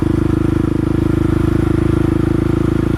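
Supermoto motorcycle engine riding steadily around a roundabout, a loud, close, continuous low throbbing drone with a fast even pulse and no pauses throughout.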